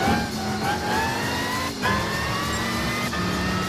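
A Mercedes-Benz car engine driving in Gran Turismo 5, a steady mid-pitched drone that climbs in pitch through the gears, dips at a shift and climbs again, loud and continuous.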